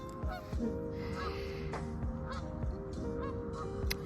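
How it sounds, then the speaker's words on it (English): Geese honk repeatedly at close to middle distance, with several overlapping calls, no talking, and a steady outdoor background hum beneath them. "Right, goose."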